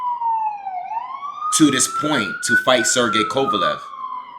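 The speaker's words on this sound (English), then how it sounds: "Sorry for the sirens" Police sirens wail outside, a rising and falling tone running steadily throughout, moderately loud beneath someone talking over it.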